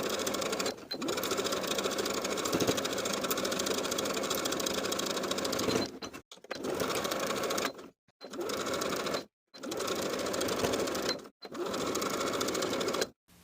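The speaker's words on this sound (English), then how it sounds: "Then edge stitch all of your hems in place all the way around for all 4 layers." A sewing machine edge stitching hems on lined cigarette pants, running in long steady bursts of rapid mechanical whirring with several brief stops between runs, close and fairly loud.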